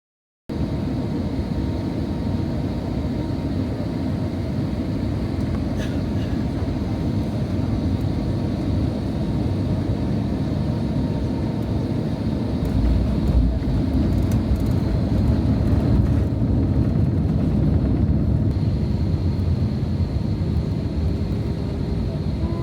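Steady loud cabin roar of a British Airways airliner landing at Amsterdam, with a continuous engine and airflow rumble throughout, swelling slightly partway through and heard from inside the plane.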